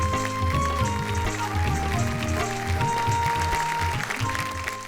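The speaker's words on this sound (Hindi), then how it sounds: "हम जोरदार तालियां दें।" An audience at a Hindi poetry evening honoring Surendra Dubey applauds his wife with steady, dense clapping that runs throughout, under sustained background music tones.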